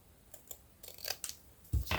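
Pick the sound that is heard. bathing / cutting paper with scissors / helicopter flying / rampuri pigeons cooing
cutting paper with scissors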